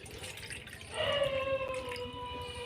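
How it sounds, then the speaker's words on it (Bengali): A short splash of water poured into a bowl in a home kitchen, a brief rising trickle that rings out faintly afterward, alone and close. "এবার বাটির মধ্যে আমি জল নিয়ে নিলাম একটু।"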